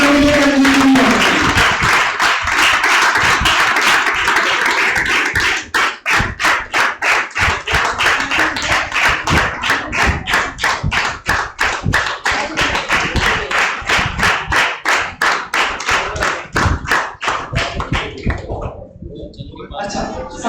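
An audience at a Das Lakshan Mahaparva religious gathering claps for children, starting as a dense wash of applause and settling into steady rhythmic group clapping that runs loud and close before thinning out at the end.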